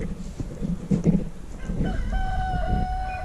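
A rooster crows at a snowy homestead, its drawn-out call rising clearly in the second half after scattered clucks and squawks from the flock, with no talk.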